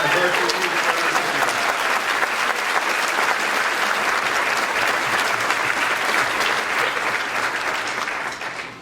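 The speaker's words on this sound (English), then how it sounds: "Let's have another round of applause for all of our 24-25 varsity music." Sustained audience applause fills a high school band spring concert, dense and steady clapping from a large crowd throughout, tapering slightly at the very end.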